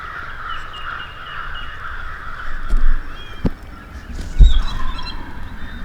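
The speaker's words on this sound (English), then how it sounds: "Just listen to these crows go off" Several crows caw repeatedly from a distance in a field over steady outdoor background noise, with a few louder harsh calls partway through.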